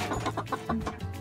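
Short run of a broody hen's low, rhythmic clucks, several pulses close by and fairly loud, with no talk over them.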